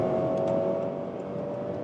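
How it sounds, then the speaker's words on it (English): A 2024 Honda CR-V engine pulling hard on the motorway in sport mode, a steady, loud drone with a thin whine running through it and no voices. "the engine sounds like a sports car, doesn't it?"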